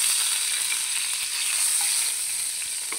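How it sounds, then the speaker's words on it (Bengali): Chicken fries in hot oil as bay leaves go in, giving a loud, continuous close-up hiss and crackle without pause. "এখন তেজপাতা দিয়ে দিব।"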